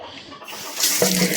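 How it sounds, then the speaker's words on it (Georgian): Water running from a tap, faint at first and then a louder hissing splash as the flow strengthens toward the end. "ახლა ნახოთ წყალი როგორი მოდის."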